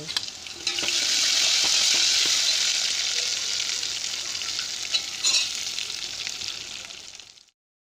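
Spinach dal cooking in a pan gives off a steady, fairly close sizzle with soft bubbling and occasional stirring clinks, running alone for several seconds before cutting off.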